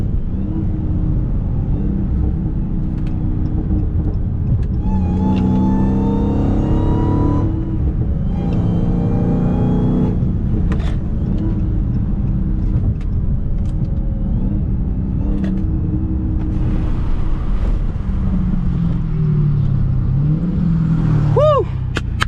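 An 800 hp Dodge SRT Hellcat driven hard in the rain, its engine rumbling low and loud from inside the car with repeated rising revs and whining gear pulls, plus a faint sweeping whistle near the end.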